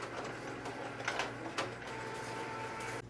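An IDenticard ID card printer prints and feeds a JetPak card, giving a steady mechanical whir with a few soft clicks and ticks over about three seconds, close and moderately quiet.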